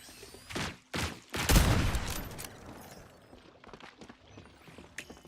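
Gunfire from a new magazine in the shooter game FragPunk: a few loud, close bursts of rapid shots in the first two seconds, then fainter scattered mechanical clicks and shots.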